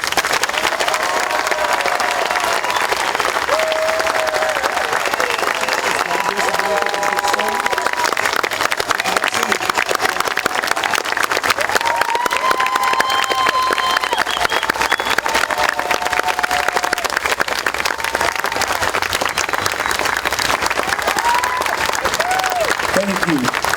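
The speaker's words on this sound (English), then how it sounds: "You were applauding to give me courage." A crowd at an outdoor walk supporting local Fresno law officers applauds steadily and loudly for the whole stretch, dense clapping mixed with a few whoops and cheers that never let up.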